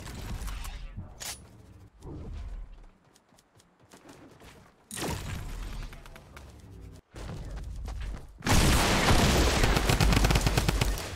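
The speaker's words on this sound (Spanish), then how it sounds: "Ojo, disparos a la derecha." Gunfire rings out in an online shooter match, with bursts of loud shots and rapid volleys separated by quieter gaps, ending in a sustained, heavy stretch of firing.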